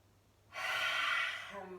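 A single deep inhale during a night-time yoga session, a soft, close airy rush through the nose that swells and holds for about a second before tapering off, alone in a quiet room.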